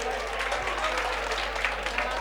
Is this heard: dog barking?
no